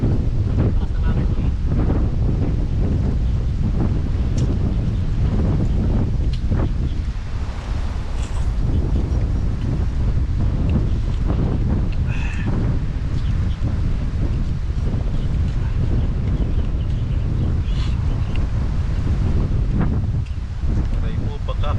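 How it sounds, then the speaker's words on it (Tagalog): Strong wind blows outdoors by the sea, a steady loud roar buffeting the microphone throughout, with faint talk in the background. "Lakas ng hangin."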